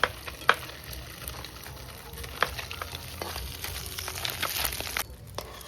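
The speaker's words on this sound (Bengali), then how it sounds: "তো এখন আমার বর মশাই মাছটা ভেজে নিচ্ছে" Fresh mixed wetland fish fry in a pan with a low, continuous sizzle, broken by scattered sharp pops and clicks throughout.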